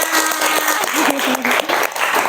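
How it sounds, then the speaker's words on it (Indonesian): A classroom of students claps together in a dense burst of applause, with overlapping voices calling out over the clapping. "Tepuk tangan untuk kita semuanya."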